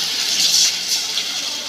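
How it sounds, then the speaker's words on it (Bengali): A little water hits a pan of frying chopped onion, garlic paste, ginger paste and cumin paste for a broiler chicken curry. It makes a brief, close hissing gush that swells and then settles into a softer sizzle. "দিয়ে দিলাম একটু পানি"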